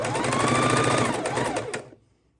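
Sewing machine stitching precut quilt pieces, a steady close whirring hum that runs for nearly two seconds and then stops abruptly.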